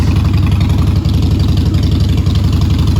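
Idling V-twin engine of a 2016 Harley-Davidson Softail Slim motorcycle, a loud, close, steady low lopey pulse with regular firing beats and no talk.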